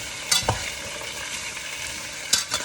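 Onion frying in olive oil sizzles steadily in a pan, with a few distinct scraping stirs near the start and end.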